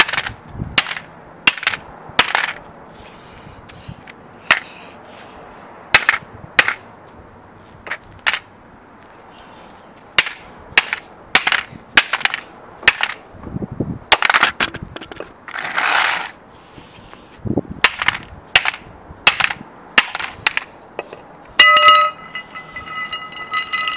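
Repeated sharp cracking blows striking an Xbox controller to break it, loud isolated impacts in irregular bursts with plastic rattles and brief pauses between hits, close up.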